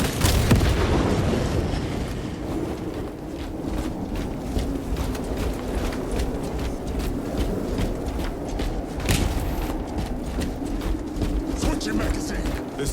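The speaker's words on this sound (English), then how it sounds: "Frag grenade out!" A frag grenade goes off in Warhammer 40,000: Space Marine 2 with a loud boom at the opening, followed by a rumbling battle din with scattered clanks and impacts.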